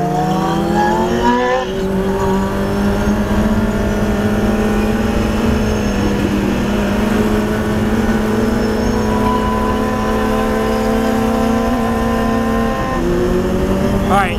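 A car engine roars loudly from inside the cabin while driving, its pitch climbing steadily through the gears with audible shifts near the start and end and a sustained accelerating whine between.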